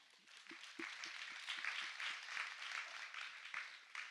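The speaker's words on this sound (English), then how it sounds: "Let's give that a round of applause." A crowd at a talk on new narratives and persuasive messengers gives a round of applause, a soft, continuous wash of many hands clapping with a few duller thumps beneath, heard faintly and without voices.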